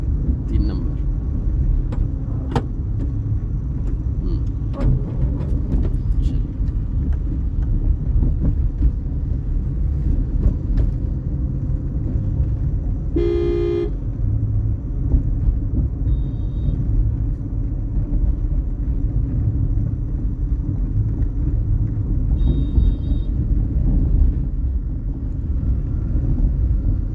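A car's engine rumbles low and continuously during a driving lesson, a steady droning hum with wind buffeting and a couple of brief higher tones, with no clear surge.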